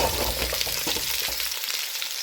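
Butternut squash sizzles and fries in smoking-hot oil while it browns, a steady close hiss with a few soft crackles and no talking.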